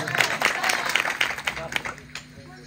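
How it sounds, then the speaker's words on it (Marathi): Applause from a crowd gathered for a Marathi kirtan on the Wari pilgrimage rattles loudly, then fades out after about two seconds while a voice speaks over it. "भागवत महाराजांसाठी एकदा सगळ्यांनी टाळ्या वाजा."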